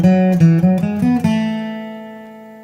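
A short measure of a hornpipe flatpicked on acoustic guitar: a quick run of about six bright, picked notes, with the last one ringing out and fading slowly, heard close and with no talk.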